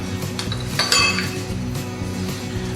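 Spoons of crème fraîche being scooped and clinked into a dish for a Maroilles tart, several close, bright metallic clinks against the dish over a steady low kitchen hum, with no talk.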